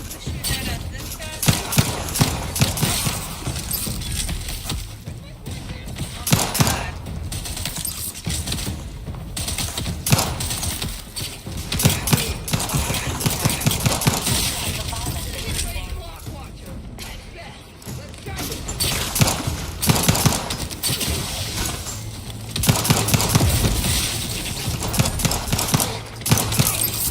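Rapid gunfire rattles through a shooting video game, bursts of automatic fire and single shots repeating in close, loud volleys over a low mechanical din, with a player talking intermittently between them.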